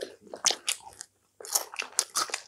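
Crispy fried Korean party food such as sweet-and-sour pork or cream shrimp is bitten and chewed up close, with loud crunchy bursts in two runs separated by a brief silence.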